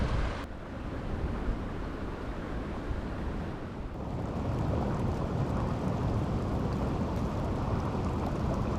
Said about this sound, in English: This is supposed to be a light rain shower.